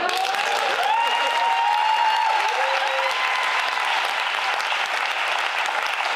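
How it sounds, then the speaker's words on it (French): Audience applause at a live show forms a steady, fairly loud wash of clapping throughout, with a few faint tones and voices near the start. "Il y en a 10 qui applaudissent"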